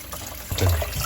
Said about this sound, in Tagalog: So, pwede mo na siyang i-buhos para lumamig.